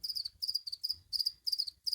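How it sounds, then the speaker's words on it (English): Male crickets chirp inside a gecko enclosure, a close, steady run of rapid pulsing trills in short repeated bursts with brief pauses, and no voices. "can hear a lot of crickets in here"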